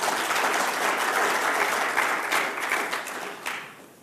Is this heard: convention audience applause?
yes